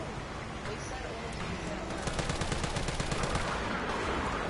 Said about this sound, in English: I'm about to grenade it.